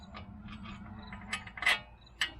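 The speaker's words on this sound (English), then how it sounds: "As I put in my last wheel bearing bolt by hand here" Wheel bearing bolt threaded in by hand on a Ram 2500 diesel 4x4, faint metallic clicks and scrapes over a low hum, with a few sharper ticks toward the end.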